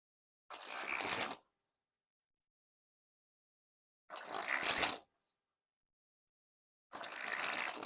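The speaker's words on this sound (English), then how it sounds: "time to test the handling. And first we'll start with the springs." Playing cards from a stiff, brand-new deck sprung from hand to hand in three separate fluttering bursts, each about a second long, close and crisp with silence between them.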